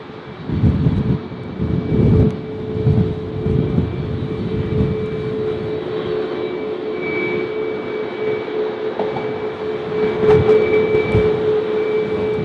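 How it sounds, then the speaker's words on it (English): Ryanair jet taxiing at Berlin BER airport, a steady loud engine whine and rumble with a sustained tone, heard from nearby outdoors throughout. "We got the Ryanair moving now."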